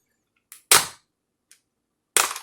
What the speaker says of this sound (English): The legs do have that ratchet joint.